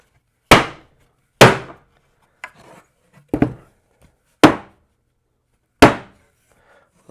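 Mallet or hammer blows knock a wooden center panel into a Shaker cabinet door frame: six sharp, resonant knocks spaced about a second apart, each ringing off quickly, with a couple of softer taps between, close and alone.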